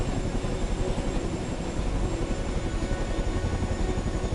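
A helicopter engine in Microsoft Flight Simulator gives a loud, steady turbine roar with a rhythmic rotor thump running throughout.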